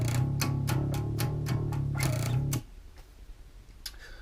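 Distorted electric bass plays a quick, driving metal riff for a few seconds, then cuts off abruptly into near silence with faint room noise.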